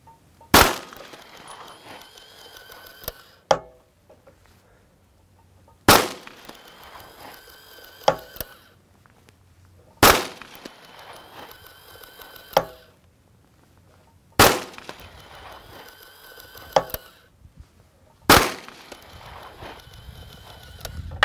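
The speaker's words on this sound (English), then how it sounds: "Drop the slide, shoot them, and group them." Five loud, sharp gunshots from a Nighthawk Custom 1911 firing .30 Super Carry handloads with CCI 500 primers, evenly spaced about four seconds apart, with quiet gaps between.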